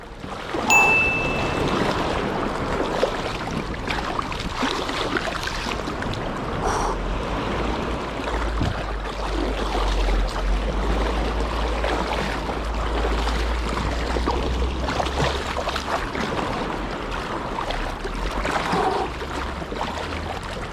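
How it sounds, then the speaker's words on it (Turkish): Steady wash of water and waves lapping near the shore around a small Decathlon Caperlan FLTB-5 fishing boat, continuous and fairly loud with a low rumble underneath, no talking. "kıyıda daha çok dalga var arkadaşlar"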